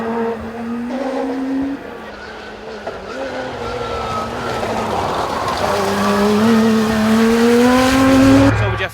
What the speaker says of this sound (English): It's a BMW M3 engine, straight 6